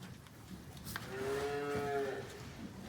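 A bull among a herd of cattle gives a single drawn-out, tonal moo near the middle, fairly close and clear over a quiet outdoor background.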